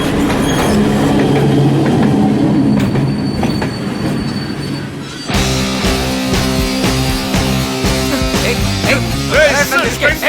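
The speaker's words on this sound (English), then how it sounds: "Next train also came." A train rumbles past on a railway track, loud and close, with wheels squealing and rhythmic clatter from the rail cars. The sound grows heavier and more metallic partway through and stays dense to the end.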